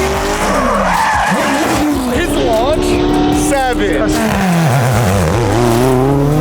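A drag car does a burnout at a casual drag race, its tires squealing loudly and skidding over a roaring engine with shifting pitch, while people talk over it.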